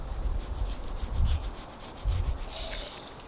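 Knife trimming fat from a ribeye prime rib roast, a soft scraping and rubbing sound in steady strokes with a couple of heavier cuts, close and alone.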